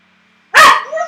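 A dog gives a single loud, close bark that trails off into a short whine.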